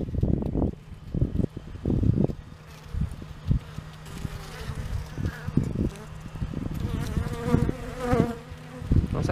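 Dense buzzing of bees swarming close around a beekeeper, a steady insect drone with wings passing near the microphone, mixed with gusty wind rumble and soft rustling, no talking.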